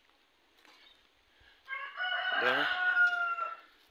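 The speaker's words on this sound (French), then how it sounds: "Nos poulets locaux pourront bien se balader sur la cour maintenant." A free-range farm chicken lets out a loud, drawn-out crowing call close by in a farmyard after a quiet start, while a voice briefly speaks.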